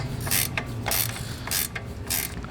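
A hand ratchet spins a nut off the suspension of a 2020+ GM 2500 pickup, giving four evenly spaced bursts of rapid clicking, close and clear with no talk.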